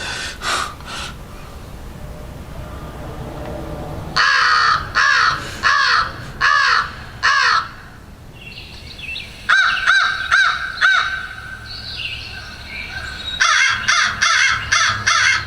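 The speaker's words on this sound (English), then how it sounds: "That was the American crow." American crow giving loud, harsh caws in repeated bursts of three to five calls, close and clear with brief pauses between the series.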